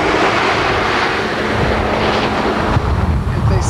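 Strong, steady wind roars and buffets the microphone outdoors during a balloon chase, a loud broadband rush with no clear voices.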